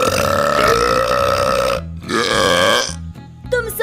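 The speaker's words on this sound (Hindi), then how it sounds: "पहली बार मैं तुमसे अच्छी डकार मारती हूँ।" A cartoon character lets out long, loud, tonal burps, one drawn-out belch followed by a shorter one and a brief third, with no talking between them.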